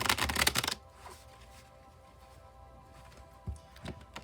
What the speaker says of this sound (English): we'll shuffle till the deck feels ready